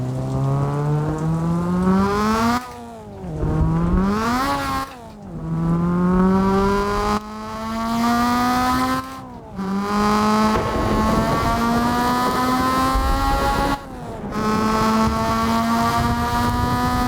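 A race car engine in the Assetto Corsa sim racing game revs loud and close, its pitch climbing through gear after gear with brief drops at each of about four shifts, no voices.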